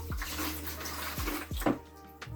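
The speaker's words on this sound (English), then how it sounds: "you can start siphoning your tank just like so" Aquarium water being siphoned through a homemade gravel cleaner hose, a steady gurgling flow broken by a few sharp splashes and sloshes, close and fairly loud with no talk.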